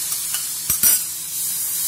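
Finely chopped large tomato dropped into a hot pan for chicken bread roll filling, giving a brief loud sizzle burst and stirring scrape mid-clip over a steady frying hiss.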